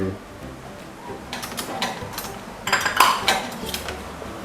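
Cocoa powder, flour, baking powder and salt being mixed in a bowl for a chocolate cake, with soft scraping and clinking of a utensil against the bowl, louder bursts in the middle and end.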